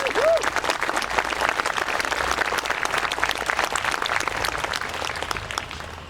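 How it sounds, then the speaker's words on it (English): A crowd along an outdoor Memorial Day parade route applauds the parade marshals, a steady mass of clapping that holds for several seconds and tapers slightly toward the end. "Round of applause for them, please."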